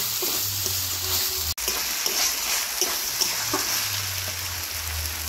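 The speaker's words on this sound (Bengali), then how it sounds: "সব মশলা দিয়ে সবজিগুলোকে আমি ভালো করে কষিয়ে নিয়েছি।" Mixed vegetables stir-fried with spices in a pan crackle and sizzle steadily up close, with a low hum underneath and a brief dropout partway through.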